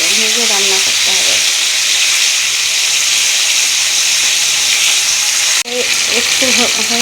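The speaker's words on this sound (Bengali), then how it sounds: "এটা একটু ভাজতে হবে, ভেজে রান্না করতে হবে।" Oil frying in a pan while cooking drumstick gravy, a steady loud hiss and sizzle running throughout, with a brief dip midway and a voice talking faintly at the start and end.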